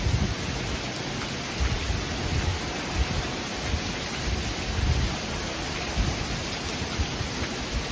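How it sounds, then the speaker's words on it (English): Heavy rain from a summer evening storm pours down steadily as a dense, constant hiss with a low rumbling undertone, loud and continuous without any voices. "Raining out there. Yikes."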